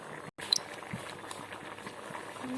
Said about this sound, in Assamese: এয়া ধুনীয়াকৈ উতল আহিছে